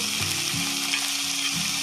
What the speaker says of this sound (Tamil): இப்போ வந்து வாழைத்தண்டு சேர்த்துக்கிறேன்.